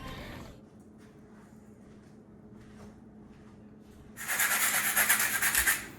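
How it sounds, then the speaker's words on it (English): Hand sanding with sandpaper on wood, a quiet rubbing at first, then a louder burst of rapid scratchy strokes near the end. "this is the only sandpaper we have"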